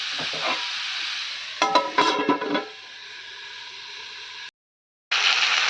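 Vegetables sautéing in a pan with salt, a steady frying hiss broken by a cluster of loud stirring scrapes and clatters partway through, then a brief silence before the sizzle resumes.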